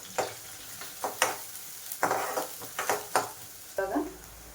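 Onions and garlic fry in a pan, heard as a quiet sizzle broken by a series of distinct spatula scrapes and stirring strokes at roughly one-second intervals, with a brief clink near the end.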